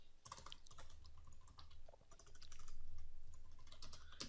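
Typing on a computer keyboard, close and quiet, with a steady patter of individual key clicks and a few firmer taps over a soft background hum.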